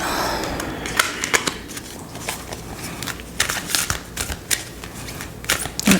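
A self-awareness card deck shuffled by hand, a quiet close run of irregular papery flicks and riffles with soft clicks in between.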